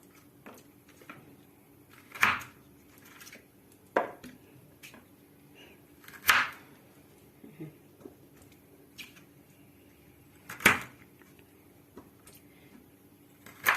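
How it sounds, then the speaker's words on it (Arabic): Knife chopping turnips on a cutting board while preparing pickles, giving sharp irregular taps spaced a second or two apart with quieter knocks between, close and clear, a voice talking at times. "وتمسكي بردك القطعه بتاعتك تروحي مقطعاها كده"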